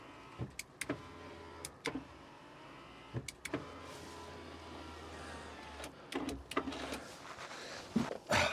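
An electric power window motor whirs inside a Mk2 Golf door, a steady low hum running for several seconds, punctuated by clicks and knocks of the glass and door, with no voices.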